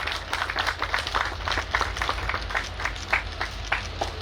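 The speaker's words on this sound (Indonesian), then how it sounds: "Boleh berikan tepuk tangan yang luar biasa" Applause at an outdoor ceremony marking a simultaneous rice-planting event, a crowd clapping steadily and moderately loud throughout with scattered irregular claps.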